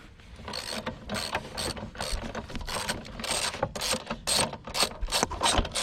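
Ratchet wrench working a 14 mm nut on a Murray lawnmower's front drive, close rhythmic bursts of clicking repeating about twice a second, no talk.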